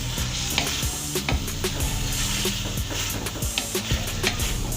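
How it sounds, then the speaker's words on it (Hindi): White chicken karahi frying in a pan, spoon or spatula scraping and stirring through the sizzle: close, continuous crackling with repeated sharp clicks and scrapes at an uneven rhythm, no voice over it. "अब 5 से 8 मिनट तक इसको हम इस तरह से फ्राई करेंगे।"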